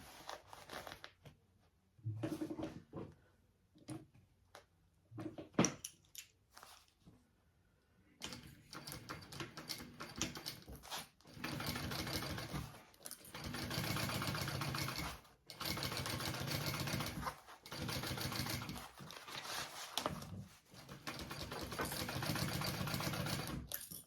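Sewing machine stitches across the bottom of a tote bag in several steady bursts separated by brief pauses, after a quieter stretch of fabric handling and clicks at the start.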